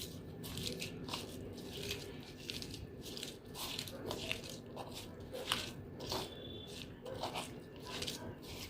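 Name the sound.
mixing akkapana sambol by hand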